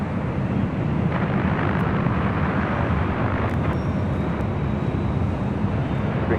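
A Delta Airlines Airbus A330neo heads for London Heathrow from LAX at night, its engines a loud, unbroken rushing roar that fills the stretch from start to finish, with no speech.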